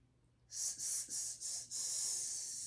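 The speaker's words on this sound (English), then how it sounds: "These are hissing exercises that will help with breathing." A person doing a vocal breathing exercise exhales in a series of sharp, close hisses through the teeth, four short pulses followed by one long sustained hiss.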